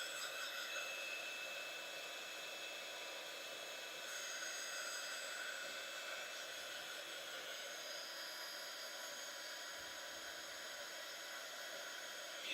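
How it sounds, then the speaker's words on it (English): A heat gun blowing hot air to dry paint on Fabriano paper, a steady, even whooshing roar that continues unbroken at moderate volume throughout, with no talking. "My heat gun doesn't want to reach all the way over here"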